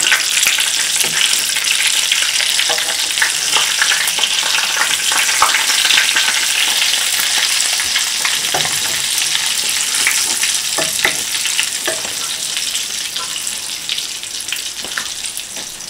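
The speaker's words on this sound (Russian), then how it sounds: "Переворачивать я буду стараться аккуратно, чтобы не распался вот этот средний шов на пирожках" Cherry-filled pirozhki frying in hot oil in a pan, a loud, dense, continuous sizzle with light scattered crackles as they are turned, no voices.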